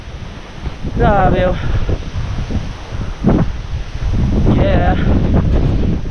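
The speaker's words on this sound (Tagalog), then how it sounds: "Ganito ang hangin dito, ang klima." Wind gusting hard against the microphone outdoors, a loud continuous roar for the whole stretch, with a voice briefly exclaiming over it.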